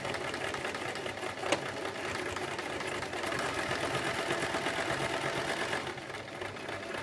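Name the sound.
sewing machine stitching a circle skirt seam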